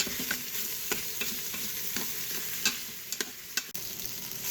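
Beef brisket sautéing in shallot oil inside an Instant Pot for Filipino caldereta, a steady close sizzle with stirring clatters and utensil scrapes at irregular intervals.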